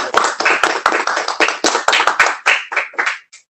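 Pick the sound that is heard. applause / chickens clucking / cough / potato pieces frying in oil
applause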